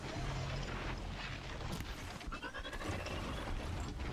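Horse mount in the Horizon Zero Dawn video game, heard as a whinny and snorting amid dense, loud game noise with a few sharp impacts, no talk over it.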